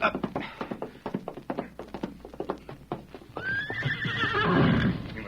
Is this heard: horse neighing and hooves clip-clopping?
yes